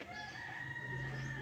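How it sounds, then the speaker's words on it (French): A rooster crows at a palm grove in Tunisia, a drawn-out call of moderate loudness carrying over a low background hum. "Et oui, il y a un coq qui chante."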